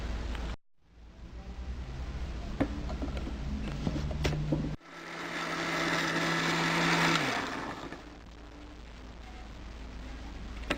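An electric kitchen blender chops sliced shallots: after a brief cut-out, the motor whirs steadily, drops into silence, then restarts in a louder, harsher grinding burst that settles back to a lower hum. No voices.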